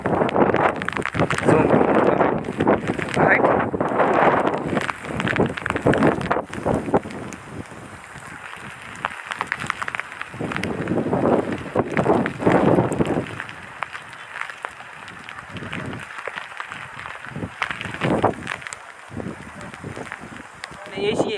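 Strong gusts of wind buffet the microphone in long roaring waves, rising and falling, with voices talking underneath.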